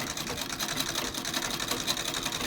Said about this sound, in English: I'm going to sew at a 45-degree angle. So I'm not back stitching or anything here.